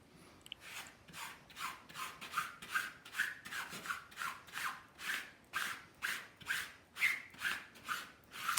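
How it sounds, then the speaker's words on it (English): A credit card drawn repeatedly over paper laid on a baking sheet during a print transfer, giving quiet, rhythmic rasping scrapes about twice a second, close up with no talk. "give it a gentle going over with your credit card"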